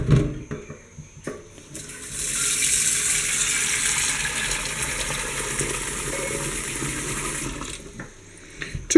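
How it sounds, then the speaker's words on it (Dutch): Water running from a kitchen tap into a cooking pot: a few clatters and knocks, then a steady, hissing gush lasting about six seconds before shutting off, with more handling clunks at the end. "Oh, wacht, ik moet eerst water in."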